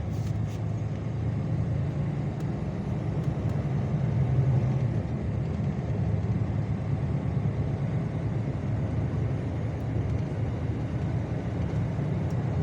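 A truck pulls out onto the Kemerovo–Krasnoyarsk highway, its steady engine and road rumble droning low and even from inside the cab, with no voices.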